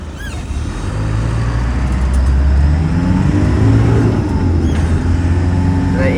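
Car driven just after a cold start, engine revving loud and close as it climbs up through the gears toward fifth, the pitch rising and dropping with each shift and no talk.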